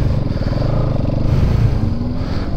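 Bajaj Pulsar NS200 motorcycle revving hard during a wheelie, a loud, steady, close engine drone holding high revs throughout with no talk.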